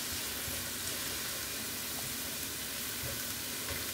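Spices for peri peri pasta cook in a pan until lightly golden, giving a loud, continuous sizzle that stays even and close from start to finish.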